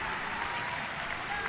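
A basketball arena crowd applauds and cheers after a three-pointer in a close men's college game, a steady, dense wash of clapping with no breaks from start to finish.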